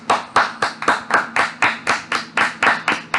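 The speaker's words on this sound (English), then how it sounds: "this is me even giving a clap of applause for his upcoming movies, Far From Home" A single person claps their hands in a steady rhythm, about a dozen sharp, close claps spaced evenly over a few seconds with no voices.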